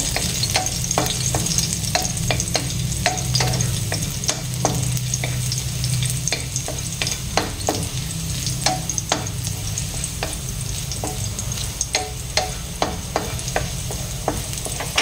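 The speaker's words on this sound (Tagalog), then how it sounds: "igisa muna natin ang ating bawang" Chopped garlic sautéing in hot oil, a steady close sizzle with frequent sharp clicks and scrapes from stirring, no voices.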